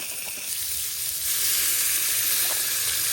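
A steak sizzles in a pan at a wilderness cabin, with steak sauce on it: a steady, loud, crackling fry hiss that swells slightly, close up, with no talking.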